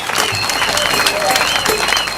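A crowd at a PSP election rally in the Catholic High School hall applauds the speaker and candidate: continuous, close, full-bodied clapping that holds steady for a couple of seconds.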